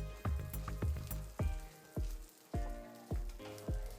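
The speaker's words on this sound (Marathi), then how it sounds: "ह्याही तेलावर छान परतवून घ्यायचं" Garlic cloves frying in oil for a curry leaf chutney: a quiet, steady sizzle with a series of low thumps and clicks as a spatula knocks and stirs in the pan, fairly close and with no talking.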